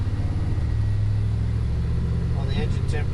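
An LS-swapped 1955 Chevy truck sits in stop-and-go traffic, its engine giving a steady, deep idle rumble from inside the cab while someone talks over it.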